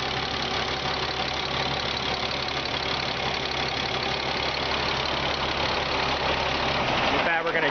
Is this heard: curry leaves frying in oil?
no